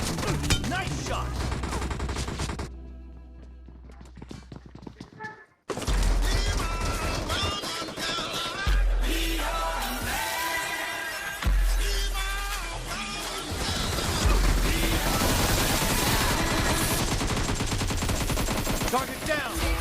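Sustained video game gunfire with dense rapid automatic bursts and crashing impacts, loud and nearly continuous apart from a brief lull, with game voice callouts faintly mixed in.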